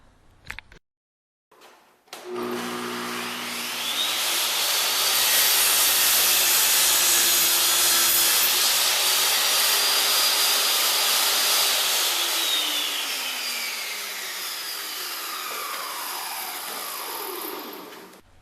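A table saw cuts a 1x4 board clamped in a tenon jig: the motor spins up, then a loud, sustained, close-up rasping cut lasts over ten seconds before it tapers off.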